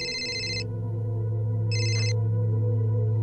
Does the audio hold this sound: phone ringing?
yes